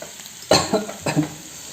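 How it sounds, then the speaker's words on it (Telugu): Onions and green chillies frying in a pan give a faint background sizzle, broken by two quick, close spatula stirs; no voices. "ఆనియన్ ఆల్మోస్ట్ ఫ్రై అయింది పచ్చిమిరపకాయలు అవన్నీ మంచిగా వేగినాయి"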